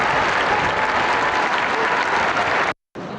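Thousands of faithful in a large outdoor crowd applaud the Pope's Easter appearance, a dense, steady wash of clapping that fills the scene, briefly cut off near the end before resuming.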